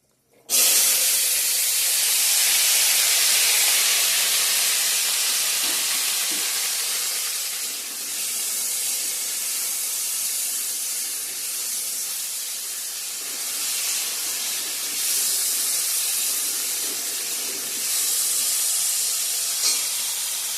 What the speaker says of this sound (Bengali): এখন আলু ভাজাটা বসাই দিব